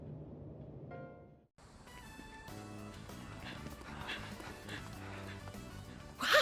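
A dog in Persona 3 Reload gives a few short barks and whimpers over soft game music, with a brief louder burst near the end.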